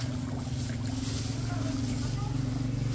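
A large boat's engine drones in a low, steady hum, with wind and water noise washing over it.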